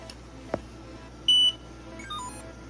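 An HBX 2 RC car's electronic speed controller powered up on a small 2S battery gives a short steady electronic beep, then a second, slightly longer beep over a faint room hiss.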